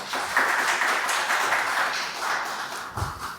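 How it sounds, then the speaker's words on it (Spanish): An audience at a political science panel discussion applauds in a steady wash of clapping. It swells quickly, holds for a few seconds and tapers off, with one low thump near the end. "Un aplauso, por favor."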